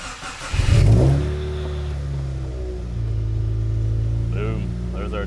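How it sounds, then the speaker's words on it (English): A 2015 Subaru WRX running on E85 cranks and fires up with a loud burst, then settles into a steady idle. A voice speaks briefly over the engine. "So I always let the fuel pump prime before turning the car on."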